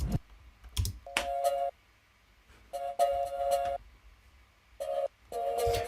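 A side-chained vocal chop in an electronic music track plays as short, bright tonal bursts in three pumping groups, separated by near-silent gaps, soft and without other voices.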